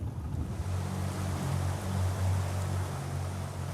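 Turbulent tidal water rushing through narrow rock gorges and crevices, a loud, continuous churning roar with a deep low rumble, close by and steady.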